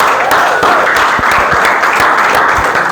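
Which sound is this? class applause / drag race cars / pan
class applause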